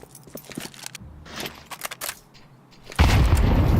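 A grenade detonates in a Counter-Strike match at a professional esports tournament, a sudden loud broadband blast near the end that stays dense and sustained, preceded by scattered sharp game sounds and clicks.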